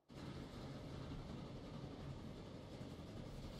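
A passenger train in the Transport Fever 2 simulation game rolls steadily along the rails, a constant low rumble and faint clatter holding at an even level with no talking.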